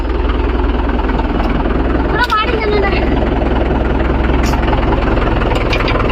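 Mahindra 415 DI tractor pulling a 9-tine spring cultivator across farmland, its engine a loud steady low diesel drone with constant throb, while people talk over it.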